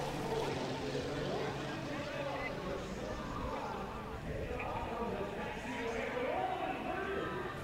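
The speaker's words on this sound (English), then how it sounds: "As Kevin Coleman takes off in the extra 300 SHP" Extra 300 SHP aerobatic plane taking off at an airshow, a steady broadband engine and propeller roar holding constant loudness throughout, with crowd or commentary voices mixed underneath.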